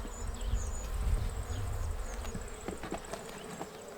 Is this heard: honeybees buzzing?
yes